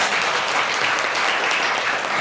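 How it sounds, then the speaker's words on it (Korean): An audience at a business presentation claps steadily, a dense, even wash of applause at close range with no pauses. "박수 한번 치셔야 돼요."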